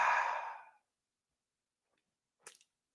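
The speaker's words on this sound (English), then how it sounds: "take a nice deep breath in and breathing out any exhaustion, any heaviness, just breathe it out." One deep exhale, breathy and close, fading out within the first second, then near silence broken by a short faint rustle.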